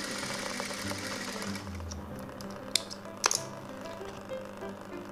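A domestic sewing machine runs a blouse seam in a steady mechanical whir, with a few sharp clicks near the middle, close and alone without talk.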